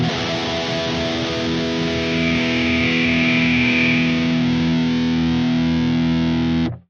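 A distorted electric guitar tone from an Axe Fx III, with harsh hissy and honky frequencies. It plays as one loud, sustained, saturated chord for almost seven seconds, then cuts off abruptly.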